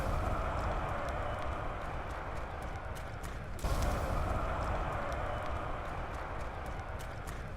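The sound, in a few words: crowd booing as affinity drops, Black Ops 4 Zombies video game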